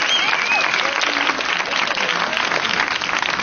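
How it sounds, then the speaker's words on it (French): An outdoor concert audience at Parc Émile Gallé claps steadily and loudly for a guitarist, a dense continuous applause with a few faint whistles and cheers mixed in. "À la guitare, il y avait Abou Baga, on l'applaudit très très fort s'il vous plaît."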